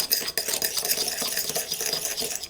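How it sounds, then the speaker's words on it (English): A dry seasoning dusting with MSG is mixed in a bowl, close and fairly loud with quick clattering and scraping strokes, irregular in rhythm and with no talk. "now we just give this a mix around"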